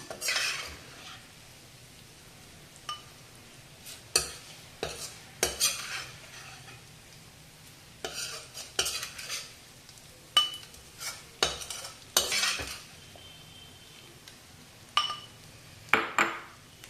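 Fried eggs and dried prawns are lifted out of a frying pan with a metal utensil, giving sharp irregular clinks and scrapes against the pan over a soft background sizzle, close by and without speech.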